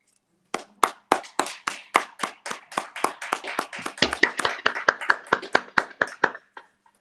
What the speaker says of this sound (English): I'd like to ask everybody to give a big round of applause to Jean Marie.